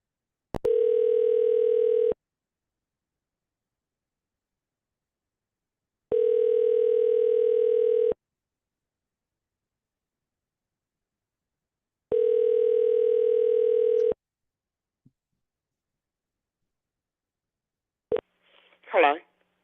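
A telephone ringback tone sounds in three long, evenly spaced two-second bursts while a number is redialed, followed by a click and a brief voice at the end.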